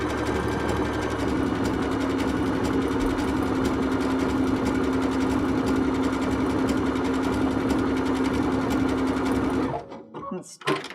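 A sewing machine runs steadily, stitching a decorative embellishment onto welt cord, its fast even mechanical whir and hum close and loud for about ten seconds before stopping abruptly, followed by a few faint clicks.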